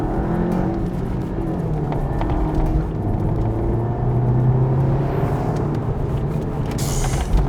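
A VW Golf GTI TCR on 19-inch alloys is driven hard through corners, its engine a continuous, steady roar that holds level throughout with no pauses.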